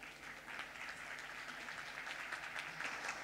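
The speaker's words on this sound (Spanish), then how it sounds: "Fuerte el aplauso, por favor." Steady applause from a congress audience at a medical session on lower-limb wounds, a dense even patter of many hands holding at moderate level for a few seconds.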